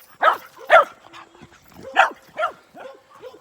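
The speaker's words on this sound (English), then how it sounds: "little squirrel dog there" A small squirrel-hunting dog barks outdoors in a run of sharp, fairly close yips and bow-wows, spaced irregularly with brief gaps, loud and clear with no talking over it.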